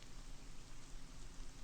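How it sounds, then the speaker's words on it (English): Steady rain falls indoors inside a room in the game Ib, a continuous soft hiss of drops with no voices, even and unbroken throughout. "It started raining in the room."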